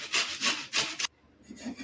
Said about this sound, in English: grate about half of its skin into a bowl.